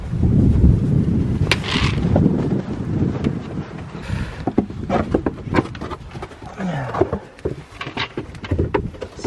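Gusty wind of up to 55 mph buffets the microphone in heavy low rumbles during a snowstorm, with scattered knocks and rustling outdoors and a voice speaking briefly over it.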